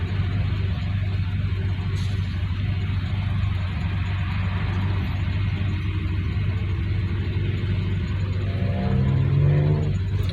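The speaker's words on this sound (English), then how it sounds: "we'll do 2 gears here, and then when we get up to speed, we have to shift down into drive" A 1951 Dodge Wayfarer with Gyro-matic transmission drives along, its engine a steady low rumble inside the cabin, the pitch rising toward the end as it gathers speed and shifts.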